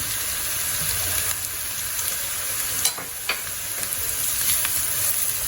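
Chopped ginger and garlic with translucent onions saute in a pan over a medium-high flame, a steady close sizzle and crackle running throughout with occasional sharper spatters and stirring scrapes.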